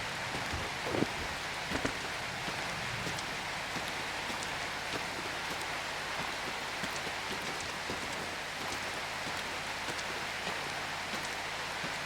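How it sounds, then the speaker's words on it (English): Steady rain pours in a video game, a dense, even hiss of drops hitting the ground that stays loud and unbroken throughout, with a couple of faint knocks near the start. "Okay, the rain is fine."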